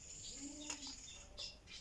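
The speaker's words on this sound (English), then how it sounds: "Can you hear the birds?" Birds chirp outdoors in a couple of faint, brief tweets and whistled calls against a quiet background, with no talking.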